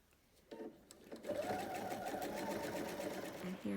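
A sewing machine stitches a fabric sewing mat with a steady, continuous whir that starts after a few brief handling clicks and runs close and fairly loud to the end.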